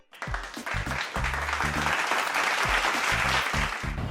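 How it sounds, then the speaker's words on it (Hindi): An audience applauds with a dense burst of clapping that starts quickly and stays loud and steady for several seconds, with low thumps mixed into the crowd noise. "तालियां एक बार।"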